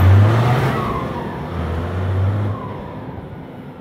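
A Ford F-250 pickup fitted with six muffled exhaust pipes revs close by, its deep engine tone rising, easing and swelling again before settling toward idle.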